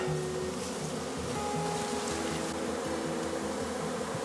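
Bees buzzing around a beehive, a dense, continuous close-up hum that stays steady throughout with no voices.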